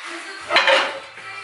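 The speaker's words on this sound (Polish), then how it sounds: "A to jest ciężki taki garnek, mówię wam." A heavy metal brewing pot used for mashing clanks and scrapes as it is handled, one short bright clatter followed by a softer rattle.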